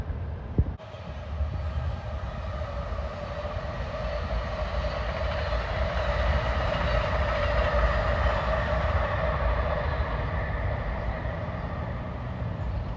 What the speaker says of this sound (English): New York bound train at 3:50.